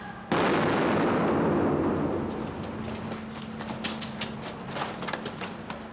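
A single sharp gunshot cracks out near the start of a staged crime reconstruction, then decays into a long fading echo, followed by quieter scattered noises.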